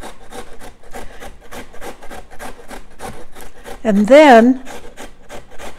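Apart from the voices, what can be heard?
grating potatoes on a box grater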